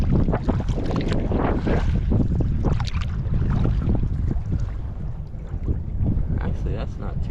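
A paddler works a small boat along the shore of the Ohio River in strong wind, with continuous loud wind buffeting the microphone over low water sloshing and a few paddle splashes.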